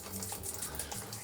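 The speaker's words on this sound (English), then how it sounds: "you pour the slush, the anti-slush stuff, like this" Pink RV and home plumbing antifreeze poured into a van's water system, a steady close trickle and splash of liquid like a running tap, alone without talk.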